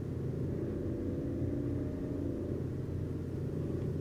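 Continuous low engine drone of a car driving steadily in Final Fantasy XV, an even muffled rumble with no talking.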